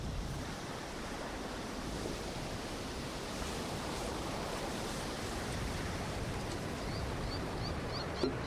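Pacific Ocean waves and wind make a continuous, fairly quiet rushing surf, with gusts buffeting the microphone and no voices.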